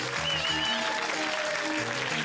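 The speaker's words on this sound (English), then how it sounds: "Give them both a clap." Children's audience clapping for the puppets Sooty and Sweep after a drum battle, a soft, continuous patter of applause with faint musical tones running beneath it.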